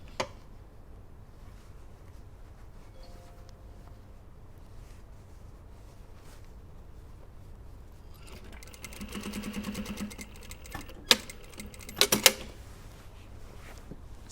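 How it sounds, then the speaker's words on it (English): A sewing machine stitching along a blouse neckline runs in a short burst of rapid mechanical whirring after a long quiet stretch, followed by a few sharp clicks and taps, close and fairly soft with no talk. "So I've started stitching here."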